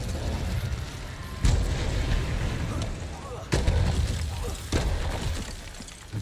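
Incendio fire spell cast in the video game Hogwarts Legacy, with several loud whooshing, booming bursts over a steady, busy game soundscape.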